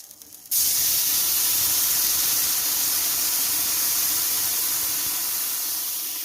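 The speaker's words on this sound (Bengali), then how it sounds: "এবার আমি তেঁতুলের জলটা ঢেলে দেবো" Tamarind water poured into a hot pan of fried spices for a bhetki fish-bone sour dish, bursting into a loud, close, sustained sizzling hiss that starts abruptly and slowly eases, with no talk.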